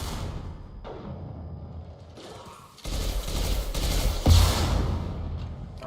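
Gunfire crackles in Mass Effect 2, quiet at first, then breaks into a dense, louder volley of shots with a heavy thump near the end.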